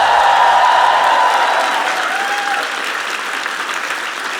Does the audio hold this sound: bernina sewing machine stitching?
no